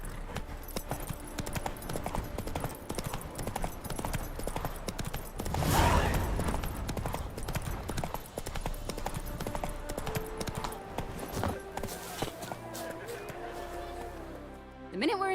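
Horse hooves clip-clop at a steady trotting rhythm in the video game The Witcher 3, continuing throughout with a brief spoken line and some game ambience over them.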